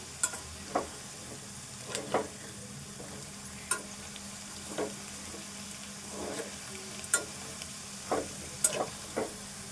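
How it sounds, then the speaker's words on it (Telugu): Potato pieces fry in a pan, a steady soft sizzle punctuated by scattered light clicks and scrapes of stirring, close and moderately quiet with no talking. "ఇట్లా వేగాలి. ఇంకా కొంచెం కూడా వేగాలి."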